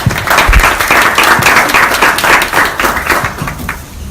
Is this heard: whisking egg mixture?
no